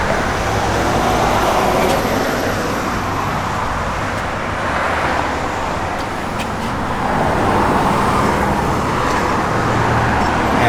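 A 1965 Pontiac GTO with Flowmaster mufflers rumbles steadily nearby, its deep exhaust tone holding at a constant, fairly loud level throughout.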